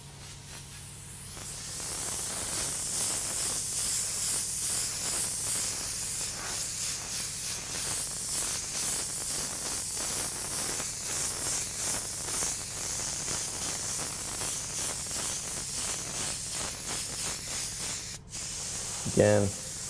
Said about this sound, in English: I'm trying to push the thickest amount of paint I can through the airbrush